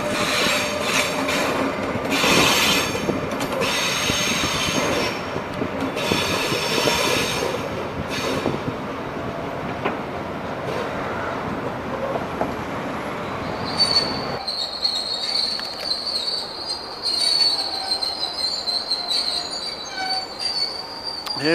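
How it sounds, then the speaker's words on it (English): A shunter locomotive pulls a double-decker train past close by at Hamburg Hauptbahnhof, with loud metallic wheel squeal and rumble, then the noise drops away to a quieter high whine. "Here we've got a lovely shunter pulling a double decker train."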